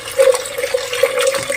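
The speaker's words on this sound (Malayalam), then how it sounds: "വൻപയർ വേകാനുള്ള വെള്ളം നമുക്ക് കുക്കറിൽ വെക്കാം" Water is poured into a pressure cooker for cooking cowpeas, a short steady gushing splash heard close and alone.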